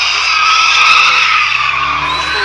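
Nissan 200 SX drifting at a slalom race in Kayseri, tires skidding and squealing in a loud, sustained screech with engine roar underneath, steady throughout without pause.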